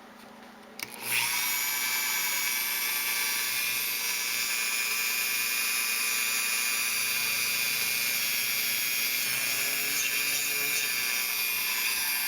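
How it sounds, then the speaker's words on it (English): A drill press whirs to life after a short click and runs steadily at high pitch drilling a hole in a submarine model part, loud and continuous without pause. "I've got my drill press all set up here and ready to go"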